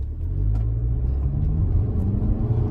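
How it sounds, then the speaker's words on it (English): A Toyota Camry SE engine responding as the accelerator is gently pressed, a loud low rumble that swells slightly in pitch and stays steady from inside the car, with no talking. "I lightly press down the accelerator"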